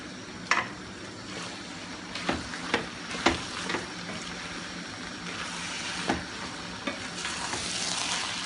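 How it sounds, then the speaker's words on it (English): Curry noodles, cooked a little runny, are stirred in a pan, with a steady sizzle broken by several sharp scraping clacks of the utensil against the pan. No talking. "Stirring it now."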